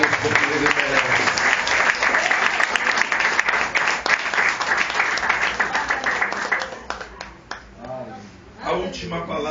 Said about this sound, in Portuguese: Dê uma salva de palmas para Jesus, porque Ele merece.